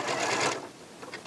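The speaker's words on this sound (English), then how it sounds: "then you can do a locking stitch at the end" A Janome Memory Craft 6700P sewing machine runs a brief locking stitch: a half-second burst of fast, close mechanical whirring, then a few faint clicks as it stops.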